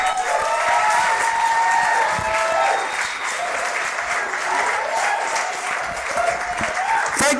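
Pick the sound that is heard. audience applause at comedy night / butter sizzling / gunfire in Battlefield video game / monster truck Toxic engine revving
audience applause at comedy night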